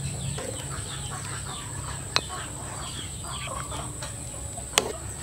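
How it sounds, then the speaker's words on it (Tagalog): Chickens cluck and squawk noisily at a rural countryside home, a busy layered racket of fowl calls with a couple of sharp clicks, under low background noise. "Ang ingay naman ang mga manok."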